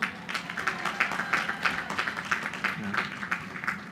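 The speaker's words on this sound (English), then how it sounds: "Give yourselves a round of applause" Graduating class of 2026 clapping at the Queens College 102nd Commencement Ceremony, a crowd applauding with uneven bursting peaks through four seconds, voices mixed in underneath.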